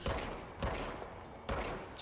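Gunfire in the video game Control: two sharp, loud bursts about a second apart, the second followed by a dense, rumbling tail.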